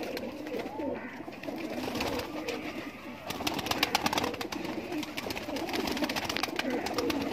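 Golden Kasur pigeons of a Laal Pari breeder pair coo softly and repeatedly, with faint voices and some clicking and handling noise around them.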